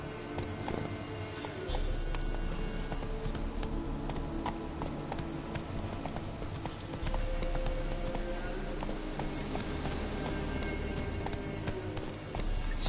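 Roach, a horse in a video game, gallops with rapid, rhythmic hoof clip-clops that run continuously and fairly loud throughout, with faint other game sounds underneath.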